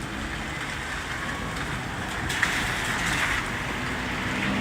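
A car passes along a wet street during an evening thundershower in Boston, a swelling whoosh of tires on wet pavement over a constant wash of rain, peaking about midway and fading out.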